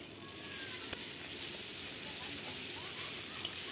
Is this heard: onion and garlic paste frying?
yes